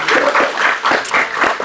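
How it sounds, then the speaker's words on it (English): A panel audience gives a burst of steady, dense clapping that fills the room, sustained without a break and with no speech over it. "just one more big applause for Sydney"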